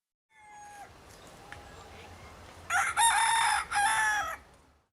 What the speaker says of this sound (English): would you like to experience the sound of crowing?